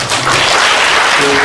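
An audience at a Buddhist teaching event claps, making a dense, continuous wash of applause throughout.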